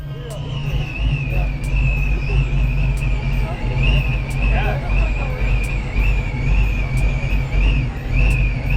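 A loud Foxbody Mustang rumbles nearby at a car meet, a deep steady engine drone under people talking, with general crowd chatter and traffic around.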